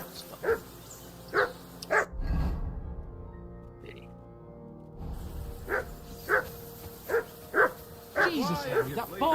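A dog in the Kingdom Come Deliverance 2 game barks repeatedly in sharp, spaced yaps, nearby and moderately loud, with a short pause and someone talking near the end.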